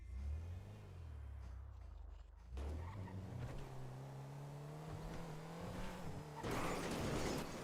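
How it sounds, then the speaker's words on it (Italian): A car passes close by on a street at night, engine note rising and falling with some tire noise, loud and steady throughout with a brighter swell near the end. "Ah, senti, sta macchina."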